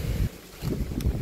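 Wind gusting across an open mountainside, a low rough rumble of buffeting against the microphone that swells and eases in uneven bursts, loud and close with no voices.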